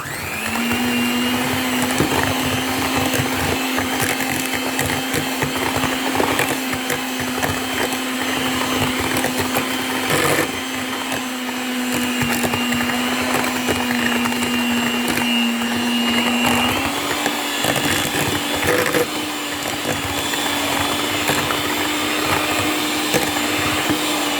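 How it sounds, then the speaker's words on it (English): Electric hand mixer beating batter for banana peach mamon by the creaming method, a loud steady motor whine running throughout with a slight pitch step partway, no talk. "beat this one using my electric hand mixer"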